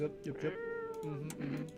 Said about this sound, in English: I need to talk to my cat over here.